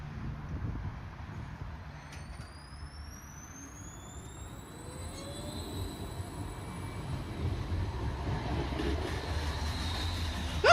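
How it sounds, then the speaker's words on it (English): Bristol trams running on rails in a rail-network simulation game, a steady rolling rumble with high whining and squealing tones rising and gliding above it, building slightly in loudness over several seconds. "Let's see what these trams sound like."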